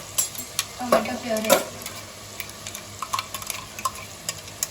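Onion puree and tomatoes frying in oil in a pan for a spicy chicken rassa, with a few close stirring scrapes early on, then quieter intermittent clinks and soft sizzle.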